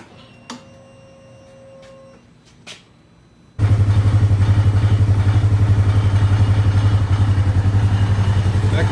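A Polaris RZR engine cranks and catches after a few faint clicks, then settles into a loud, steady idle with a fast, even pulsing throb, close by.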